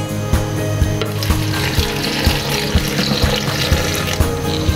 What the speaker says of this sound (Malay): Tambahkan sedikit air.